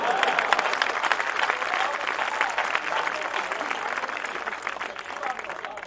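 Steady audience applause fills a poetry recital hall, dense clapping held at an even level for several seconds before easing slightly toward the end.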